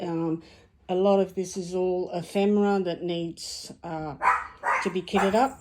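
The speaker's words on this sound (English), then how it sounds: "Oh, excuse my dogs." Dogs bark repeatedly indoors in a craft room, sharp yappy barks and yips mixed in and overlapping someone talking nearby.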